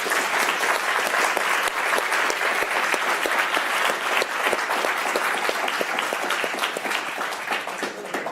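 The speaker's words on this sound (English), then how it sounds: "One big round of applause for our guests." A room full of guests at an evening public talk applauds steadily, with dense, loud clapping sustained throughout and no voices over it.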